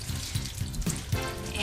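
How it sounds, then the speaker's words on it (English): Vegetable broth pours into a pressure cooker as a soft, continuous liquid splashing and gurgling, close up and steady for under two seconds, with no talk. "I'm going to add vegetable broth and water"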